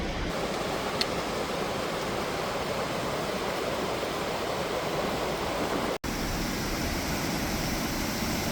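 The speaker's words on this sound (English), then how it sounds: "there were waterfalls everywhere" Steady, full-bodied rush of falling water, loud and continuous throughout with no letup, from a nearby waterfall in East Tennessee.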